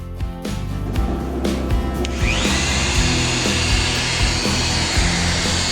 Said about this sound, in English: The weight and the power of the sander does most of the work.